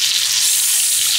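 Hot dogs fry on a hot surface, giving a loud, dense, hissing sizzle that stays steady and close for a brief moment.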